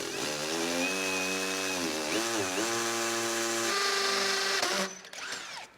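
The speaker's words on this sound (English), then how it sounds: "we drilled through, or all the way through the bricks" A power drill bores through a brick wall with a steady, loud whining motor drone whose pitch dips and recovers under load, then the drill cuts out near the end.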